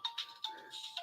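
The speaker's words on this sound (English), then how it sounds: "I've got Jackie ringing on my mobile." A mobile phone ringing with a short repeating electronic tone, four quick bursts of the melody in about a second, fairly faint.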